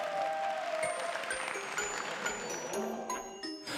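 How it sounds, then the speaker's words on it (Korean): Crowd applause at a military song contest, fairly faint and steady, mixed with ringing tonal sounds from the stage as the performance is about to begin. "그럼 박수 부탁드리겠습니다"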